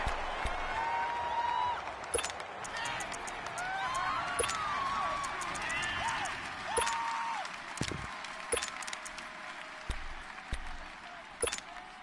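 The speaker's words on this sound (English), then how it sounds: "The crowd getting into it as we come up on a big 3rd down" A stadium crowd in a PS4 American football game swells ahead of a big third down, a steady, distant roar and murmur running beneath a commentator's voice, with scattered sharp clicks.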